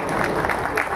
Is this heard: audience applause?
yes